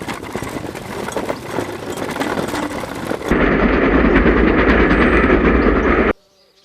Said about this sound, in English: The King's train will pass in 8 minutes.